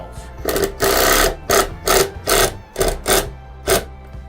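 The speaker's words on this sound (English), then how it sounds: "Now you want to sink those screws just a little bit." A power drill drives screws into a sheetrock patch in bursts of high whirring, one long run followed by several short pulses, loud and close with no talk.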